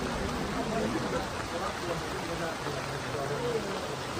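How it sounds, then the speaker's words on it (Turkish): Hail falls in a steady, dense patter, a continuous rushing hiss of ice striking surfaces that stays loud and even throughout. "Dolu yağıyor."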